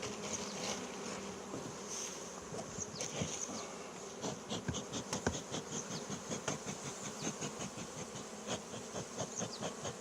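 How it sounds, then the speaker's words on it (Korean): Honey bees swarming around an opened beehive frame during smoking, a dense continuous close buzz with rising and falling wingbeat pulses, loud and alone with no talk. "위에 붙은 벌들을 훈연을 해서 알로 내려주고요"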